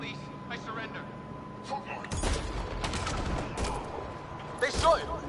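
Gunfire breaks out in Mass Effect Andromeda, a few bursts of close shots over a low background hum, with faint voices around them.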